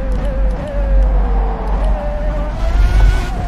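A race car in a sim racing game at Interlagos brakes hard from about 186 mph at the end of the main straight, its loud, steady engine note sliding down in pitch as it slows, with a brief high whine near the end.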